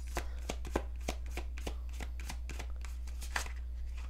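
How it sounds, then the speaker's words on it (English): A deck of tarot cards is shuffled by hand in a quiet room, giving a run of crisp riffling bursts and sharp snaps, roughly two per second, close and clear with no voices over it. "Giving this a good shuffle."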